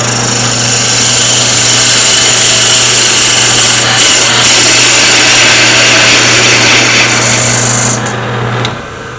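A woodturning lathe spins a wooden vase blank while a tool takes one long, continuous cut, a loud steady hum with gritty scraping that holds unbroken before easing off at the end.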